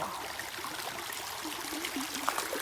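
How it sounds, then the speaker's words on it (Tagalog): A small stream trickling along the boundary of a farm in the Philippines, a steady low wash of running water heard close and alone with no talk. "Pag nakita na ito, maliit na sapa."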